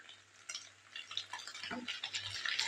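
Egg, potato, onion and capsicum stir-fried together in a pan, with close, steady scraping and clinking of a spatula over a soft continuous sizzle.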